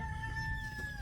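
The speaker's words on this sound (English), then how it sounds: "go get the chickens out of the garden again" Chickens out in a small-town garden make a loud, close, sustained crowing call over a steady background of clucking.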